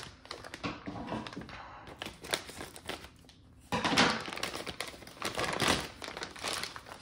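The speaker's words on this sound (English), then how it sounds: "I got a pair of scissors with me here so we can open up some of this stuff" Crinkling plastic and sharp snipping and tearing sounds in uneven bursts, close up, as scissors cut and pull open the packaging of an Align TN70 model helicopter kit.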